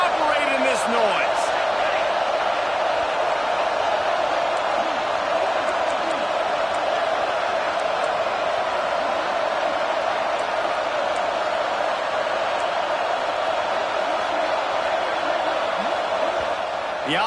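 A loud, steady roar from a packed stadium crowd at a football game near the goal line, continuous and dense throughout, with faint scattered thuds and claps inside it.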